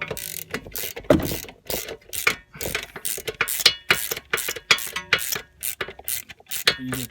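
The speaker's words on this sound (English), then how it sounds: "It's best if you use electric ratchet." Electric ratchet driving the belt tensioner bolt on a 2005 Scion tC, heard as repeated short bursts of whirring and clicking that start and stop in quick succession, close and fairly loud.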